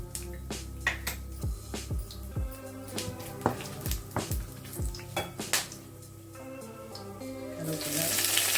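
Whole spices drop into hot oil for an egg gravy and sizzle in a run of quick crackling pops, close and fairly loud, before a steadier frying hiss builds toward the end.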